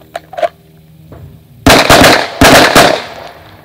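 Gunshots fired close by during a shooting training drill, in two quick loud bursts of several rapid shots each, after a few faint clicks and handling noises.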